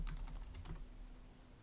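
Fingers typing on a computer keyboard, a quick run of soft clicking keystrokes in the first second, then near silence with faint low background hum.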